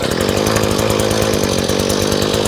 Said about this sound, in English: let's get this guy installed on the drill and go drill some holes